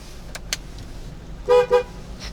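A car horn gives two short, loud toots in quick succession from a nearby vehicle, standing out against quiet background hum after a couple of faint knocks.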